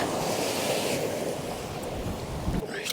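Sea swell breaking along the rough-ground Northumberland coast, a continuous wash of surf and rushing water with wind buffeting the microphone, fairly loud and close.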